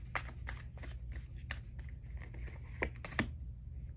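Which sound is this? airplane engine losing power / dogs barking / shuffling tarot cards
shuffling tarot cards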